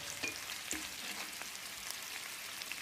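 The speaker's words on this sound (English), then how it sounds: "Quick stir." Food sizzles steadily in a frying pan during a quick stir, with close, soft scraping clicks over a constant crackling hiss and no talk.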